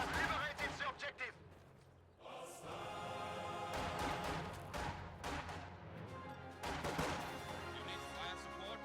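Gunfire crackles in a World War II real-time strategy match where an MG42 machine gun engages conscripts, with bursts of rapid shots and impacts coming in clustered waves amid battle noise, while voices talk over it.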